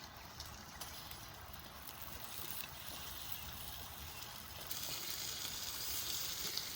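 Fish sizzles on a tawa, cooked Malnad style, with a quiet, steady crackle of hot oil that runs continuously and grows slightly louder toward the end.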